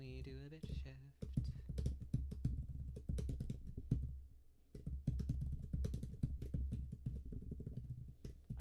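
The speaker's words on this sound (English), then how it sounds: "I don't know if you can hear my keyboard sounds." Computer keyboard keys being typed in quick, irregular bursts of close clicks, running steadily through the clip alongside a low background hum.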